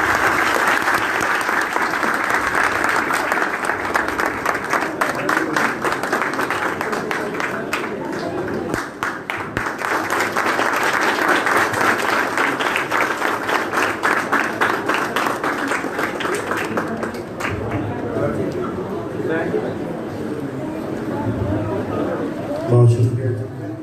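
A seated audience at a formal gathering gives sustained, even applause to welcome a guest speaker. The dense clapping runs for over twenty seconds and thins toward the end, with voices faintly underneath.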